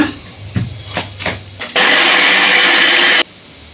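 A blender grinds mango pieces, thick curd and milk powder for homemade mango ice cream, starting abruptly as a loud, steady whir that runs about a second and a half before cutting off, after some brief handling clatter.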